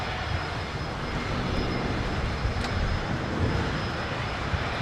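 A Cathay jet airliner takes off at Los Angeles International Airport, giving a loud, continuous broadband roar of jet engines that holds steady and close throughout.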